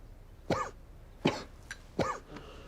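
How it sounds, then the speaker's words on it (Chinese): A person coughs three times at roughly even intervals, each a sharp, dry burst with a faint throat sound after, fairly quiet and close with silence between. "怎么咳嗽了？"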